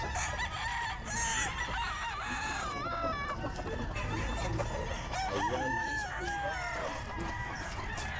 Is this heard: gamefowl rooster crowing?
yes